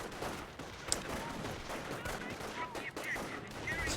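Dense gunfire from a Company of Heroes 1 battle, with an MG42 machine gun among the shots, sounding as a steady, busy stream of pops and bursts. Brief tonal whistles cut in here and there.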